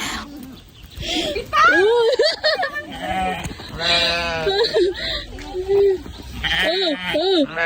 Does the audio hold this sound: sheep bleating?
yes